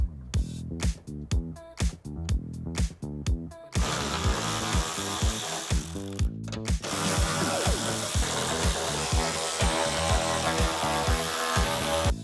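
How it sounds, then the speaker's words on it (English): A ratchet or power driver backs out the 10 mm bolts on the rear trunk panel of a Toyota 4Runner: sharp repeated bursts early, then a sustained loud whirring run, briefly broken, then continuing, close and alone. "Now remove your 8 10 millimeter bolts on the back of the trunk."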